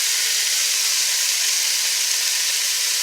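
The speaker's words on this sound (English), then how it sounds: "you're going to add your cut 5 strips of bacon" Five strips of cut bacon sizzle in a preheated pan, giving a loud, steady, close hiss with no talk over it.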